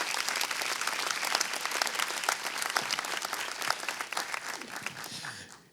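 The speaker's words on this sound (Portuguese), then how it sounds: "Você pode aplaudir a Jesus mais uma vez?" A church congregation bursts into sustained applause, many hands clapping loudly and densely, with faint crowd voices mixed in before the clapping tapers off at the end.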